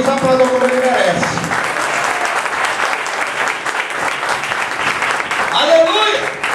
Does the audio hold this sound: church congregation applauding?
yes